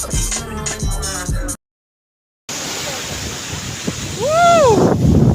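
Ocean waves breaking and washing on a beach, a steady broadband roar with wind buffeting the microphone, loud and close, after a short stretch of talk and a brief gap; excited shouting and whistle-like cheers rise near the end.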